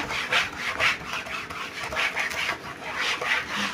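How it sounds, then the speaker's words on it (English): A classroom board being wiped clean, rhythmic rubbing strokes in repeated bursts, close and moderately loud, with no talk. "Let me rub the board."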